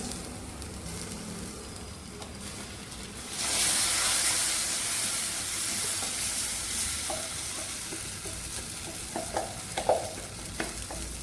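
Ground masala paste goes into a pan of fried onions for onion gojju, and the sizzle swells suddenly to a louder steady hiss, with occasional stirring clatter near the end, close by and without voices.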